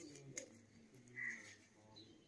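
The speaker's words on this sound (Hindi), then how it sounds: "बहुत ही बढ़िया कबूतर है" A Madrasi red pigeon coos softly at close range, a faint low murmur with a brief higher chirp in the middle, set against quiet background noise.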